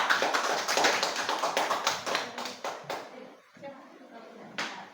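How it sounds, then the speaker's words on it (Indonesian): A group of teachers claps their hands together during a training session at an elementary school, a dense burst of applause that thins out and fades after a few seconds, with voices mixed in. "Beri tepuk tangan untuk kita semua"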